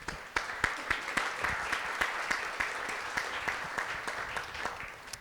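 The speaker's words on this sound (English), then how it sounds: "I'll let her know about the applause." Audience applause following a point made in an International Women's Day panel discussion, a steady wash of many hands clapping at moderate distance with sharp individual claps standing out, lasting several seconds.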